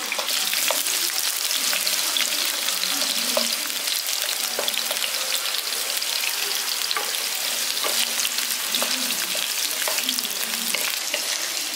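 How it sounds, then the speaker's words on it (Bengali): Potato pieces, cut into fairly large chunks, fry steadily in hot oil for an echor chingri dish, giving a continuous close sizzle with occasional stirring clinks and scrapes, no voices. "এবার এখানে আমি আলুটা প্রথমে ভেজে নেবো।"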